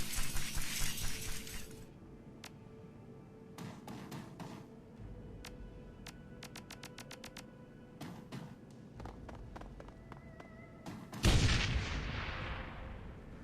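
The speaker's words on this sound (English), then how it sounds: "As the sound of the gas explosion fades" Gas explosion in the Shadowrun: Hong Kong video game: a burst of noise at the start, then scattered sharp impact-like cracks, and a heavy, loud blast near the end that trails off into rumble.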